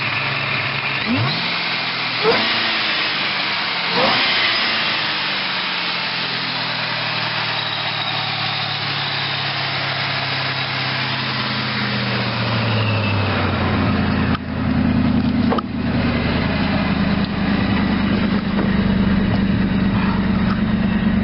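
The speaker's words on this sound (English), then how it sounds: "It's a little bitty 281 V8 with a little bitty blower on it" A small 281 V8 engine with a supercharger runs close by, revving a few times before settling into a steady idle with a faint supercharger whine.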